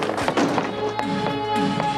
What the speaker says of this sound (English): Break in the door.